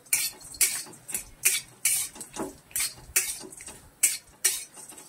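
Spices dry-roasting with a little oil over low gas for Marathwada-style kala masala, stirred with a utensil that scrapes and clinks against the pan in regular bursts, about ten close strokes with brief pauses between.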